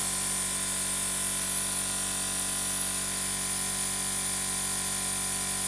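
An airbrush sprays cleaner through itself during model painting for a Millennium Falcon build, giving a steady, even hiss with a faint tonal hum that stays constant and close throughout, with no talking.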